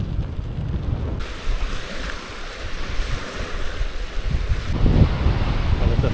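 Lake waves in the Masurian Lake District wash and surge steadily under gusting wind, a loud continuous roar of rough water with no voices.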